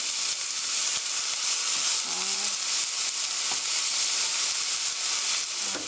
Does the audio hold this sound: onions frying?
yes